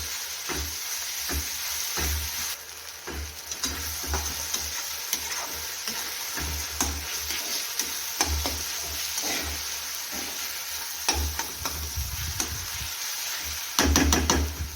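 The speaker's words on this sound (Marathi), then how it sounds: "तर यामध्येच आपल्याला जाडसर वाटून घेतलेला ठेचा टाकून घ्यायचा आहे सर्व मसाला आपण फ्राय करून घेऊ" Coarsely ground chili thecha masala frying in a hot pan, a continuous close sizzle broken by frequent stirring scrapes and knocks, ending in a brief burst of louder clatter.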